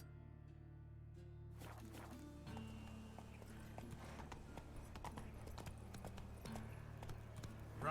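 Roach the horse gallops in The Witcher 3, hooves clip-clopping in a steady, fast rhythm over a low in-game music bed, occasionally joined by a whinny, loud and close throughout.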